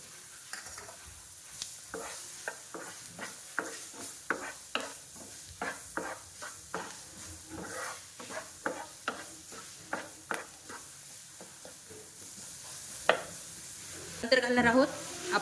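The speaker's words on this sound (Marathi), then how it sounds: "त्यानंतर आपण घालणार आहोत यामध्ये आपला बारीक चिरलेला कांदा" Finely chopped onion stirred into a pan with roasted gram flour for a capsicum and onion sabji, with a spoon scraping in a steady rhythm over a soft sizzle, close and moderately loud.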